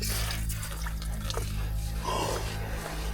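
Water rinsing in a micro camper's shower on a chilly morning in Poland: a steady, close, broadband spray hiss that runs the whole time without a break.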